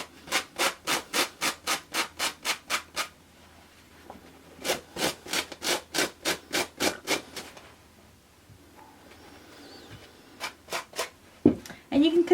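A fabric skirt being rubbed hard to distress and fray it, in rapid rhythmic scraping strokes, about a dozen in a run, pausing, then another run and a few more strokes, close and fairly quiet.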